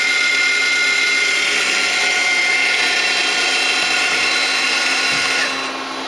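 The back live tool spindles of a Star SW7R Swiss-type lathe spin at 3,500 RPM, a loud, steady high-pitched whine that holds evenly, then drops off slightly near the end.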